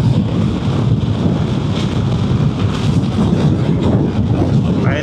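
Strong wind buffets the microphone while riding a Vespa GTS 300 scooter, a loud, continuous rushing roar with low rumble and gusty fluctuations and no clear voices.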